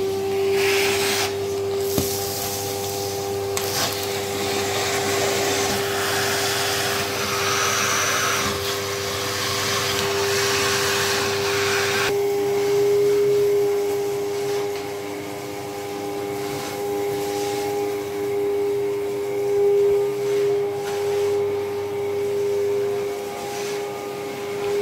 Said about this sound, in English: So we're going to start hoovering out now